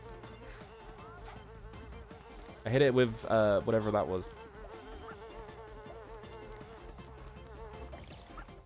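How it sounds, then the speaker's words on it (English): A bee enemy in the Ninjabread Man video game buzzes in a constant, droning whine that runs throughout. Someone speaks briefly over it in the middle. "Oh no, a bee."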